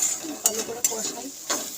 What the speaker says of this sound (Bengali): ভালো করে কষাই।